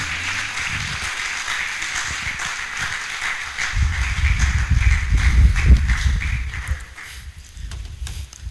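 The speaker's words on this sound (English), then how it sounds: "A round of applause as she mounts the podium" An audience at a medical laboratory science induction ceremony applauds as the provost mounts the podium: sustained, even clapping throughout, with heavy low thumping and rumbling rising midway as people shuffle and move.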